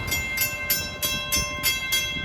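LIRR train 1965 from Ronkonkoma to Penn Station arrives at Brentwood station by the 4th Street grade crossing, with a steady rhythmic clanging pulse over ringing tones and a low rumble, no talk.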